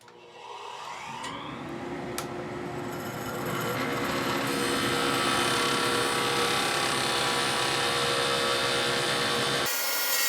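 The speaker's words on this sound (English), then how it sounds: "I have to first drill a 1/2 inch hole about 1 inch deep" A power drill bores a half-inch hole about an inch deep into a walnut pen blank, a steady whirring motor hum that rises and builds in intensity as the bit cuts, then stops abruptly.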